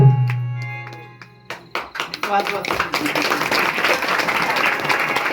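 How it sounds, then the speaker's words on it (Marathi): At a Marathi bharud folk performance the audience breaks into applause, a scattered burst of claps that swells into steady clapping after an opening passage of voice and music. "सगळ्यांनी टाळ्या वाजवल्या"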